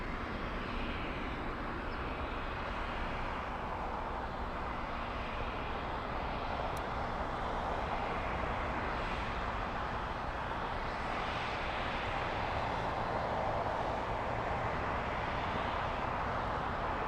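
Airliner touching down at Los Angeles LAX at about 65 knots, a steady broadband jet roar holding loud and continuous with wind-like rush throughout, no voices.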